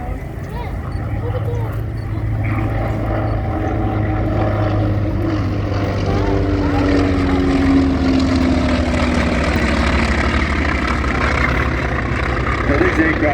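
A close formation pair of T-28 Trojan propeller aircraft passes at an airshow, a steady loud droning engine roar with a low hum that holds throughout and swells gradually as the planes come back in.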